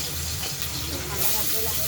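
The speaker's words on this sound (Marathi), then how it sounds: "त्यामध्ये आपण हे पहा तेल खूप गरम झालेलं आहे. त्यामध्ये आपण कांदा घालूया." Onion hits two spoons of very hot oil with a loud, broad hissing sizzle, close and steady, swelling slightly toward the end.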